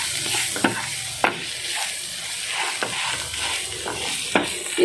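Spice powders and lemon juice sizzle loudly in a pan for egg pepper masala, with steady frying hiss and a few sharp spoon scrapes as the mixture is stirred.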